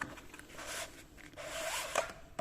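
Cardboard pull tab drawn out of a Xiaomi Mi Band 5 retail box, a soft scraping, rubbing slide in two close bursts with a brief sharper rip near the end, quiet and with no talk.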